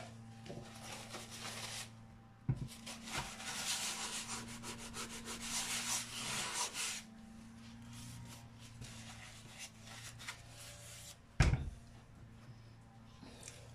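Paper towel rubbed and wiped across a surface in a kitchen, close papery scrubbing strokes with a couple of sharp knocks from handling, no talking.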